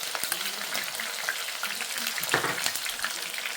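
Garlic and green chilies frying with chicken in a pan, a steady crackling sizzle with scattered spatula taps, nearby and moderately loud, with no one speaking.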